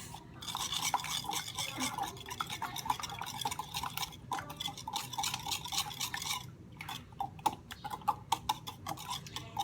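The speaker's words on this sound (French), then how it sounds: "on mélange en écrasant bien les jaunes d'œufs" Egg yolks being stirred and mashed with sugar in a bowl for clafoutis, quiet repeated scraping and tapping strokes with a few sharper clicks toward the end, close by and with no voices.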